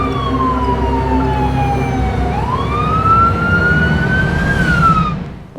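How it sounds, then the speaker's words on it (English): Emergency siren sound effects in a short film, a loud wailing tone that dips then climbs and ramps upward in pitch, continuous over a rumbling vehicle background before cutting off at the end. "And the sirens ramp up."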